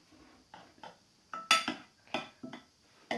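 Slime gets stirred in a container with a utensil, giving a string of sharp, close clinks and scrapes at an irregular pace that are quiet between strokes.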